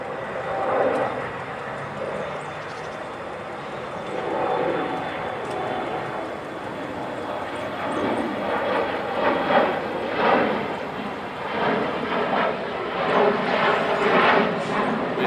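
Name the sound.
military jets flying at Naval Air Station Fort Worth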